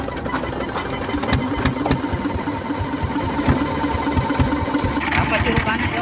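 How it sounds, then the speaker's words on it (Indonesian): An engine-driven compressor runs with a rapid, steady knocking chug, close and loud, as a voice talks over it. "Kompresor akan dinyalakan."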